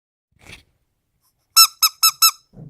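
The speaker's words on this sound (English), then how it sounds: "I'm going to take the squeak toy away from Luna" A dog's squeak toy lets out four quick, loud squeaks in a close, rapid burst, with faint soft handling noises just before and after.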